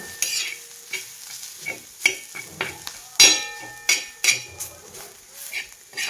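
Chili thecha (kharda) roasting in oil in a pan on low heat, with steady stirring, spoon scrapes and clinks against the metal over a soft sizzle.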